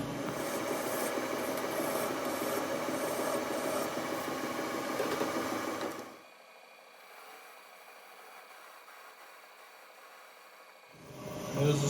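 A file scraping sharp edges off a small metal governor part for an engine, a continuous rasping noise for about six seconds before it stops, leaving a quiet stretch, then a short loud burst near the end.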